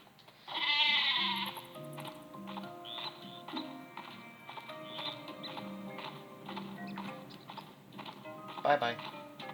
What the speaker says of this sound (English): a peace offering. In the shape of the cuddly sheep packed with explosives